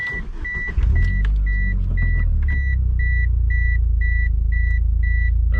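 A 1998 Eagle Talon TSi engine cranks and catches, settling into a loud, steady idle while a repeated electronic chime beeps evenly in the background.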